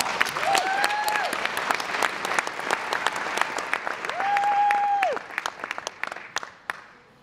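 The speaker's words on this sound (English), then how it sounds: "let's give them a big round of applause" Audience applause at a talent show, loud and sustained clapping from a crowd, with whistles and cheers rising over it before the clapping thins into scattered claps.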